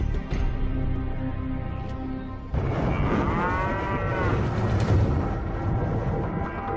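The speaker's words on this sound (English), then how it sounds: "This remote cow pasture, a 3 hours drive north of Phoenix, might contain a telling link to Mercury's volcanic history." Cattle in a remote cow pasture three hours north of Phoenix, loud close moos that run continuously through the clip, with one long sustained low call and then layered overlapping lowing, and no voices.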